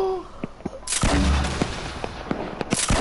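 A grenade launcher fires in a video game: a loud blast followed by a rattling spread of sharp booms and cracks at uneven intervals, close and punchy.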